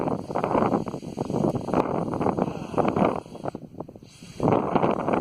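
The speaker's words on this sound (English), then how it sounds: "More wind." Strong wind buffets the microphone outdoors in rough, roaring gusts, easing briefly before surging back loud.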